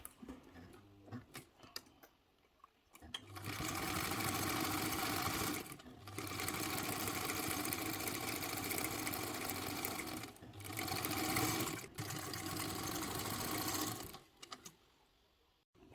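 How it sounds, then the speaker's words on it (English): A sewing machine runs a basting stitch around the edge of a fabric caddy. It makes long, steady bursts of rapid mechanical whirring, with brief pauses between runs and no talking. "I'm going to sew this here, and then I'm going to sew all the way around the edge, and I'm going to come all the way back up"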